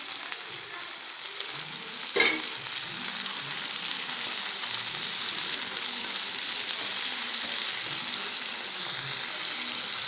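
Tomatoes with ginger and garlic sizzle in a pan in a steady, close hiss, broken early by a single sharp clack.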